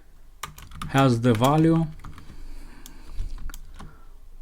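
Code is typed on a computer keyboard in quick, light clicks close to the mic, partly under a man's brief speech and continuing on its own afterward.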